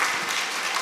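Audience applause from a church congregation during a sermon, a dense steady patter of many hands clapping at close range, brief and alone.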